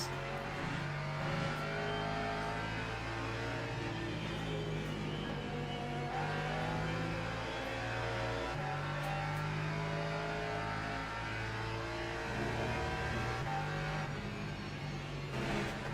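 Race car engines in the Le Mans Ultimate sim racing game, including LMP3 prototypes at Barcelona, droning loud and continuous with shifting pitch as the cars rev through corners, layered engines overlapping with no speech.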